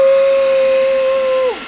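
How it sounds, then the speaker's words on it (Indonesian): A blender whirs through pineapple chunks with a loud, steady high-pitched motor whine that holds evenly before winding down sharply at the end. "sekarang kita akan ngeblender nanasnya guys"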